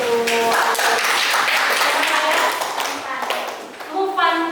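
A classroom full of students claps for a classmate, dense rapid applause that fades toward the end as voices speak over it.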